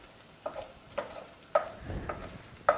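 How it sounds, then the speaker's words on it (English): Vegetables scraped and pushed to one side of a frying pan for an Italian casserole, a few distinct spatula scrapes and clatters over a quiet, steady sizzle, close and fairly soft. "What I want to do is I want to push all of the vegetables to one side of the pan."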